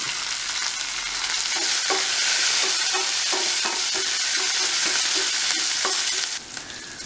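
Curry leaves, green chillies and a small piece of ginger frying in oil after mustard seeds have popped, a loud hissing sizzle with rhythmic stirring knocks that fades near the end.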